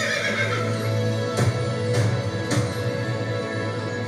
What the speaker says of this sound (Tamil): குதிரையா?